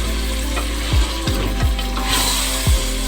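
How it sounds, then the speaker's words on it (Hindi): Meat browning in a pot for degi aloo gosht, a steady loud frying sizzle with several sharp scraping stirs of a spoon against the pot at irregular intervals, no voices. "अच्छे से फ्राई हो रहा है"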